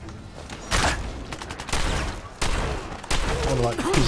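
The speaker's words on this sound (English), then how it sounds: "harpoon gun, which is doing an awful lot of damage" Repeated weapon shots ring out in combat in the Fallout 4 Far Harbor game, where a harpoon gun is firing, with several sharp loud bursts spread across the moment and someone talking in between.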